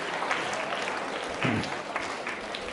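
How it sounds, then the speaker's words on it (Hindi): Audience applause from a school quiz show audience, a steady, dense wash of clapping filling the whole stretch without pause. "तालियां बजाइए जोरदार तरीके से।"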